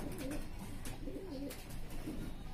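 A pigeon coos nearby in soft, throaty repeated phrases, several low rolling calls spaced across a few seconds, with faint background noise.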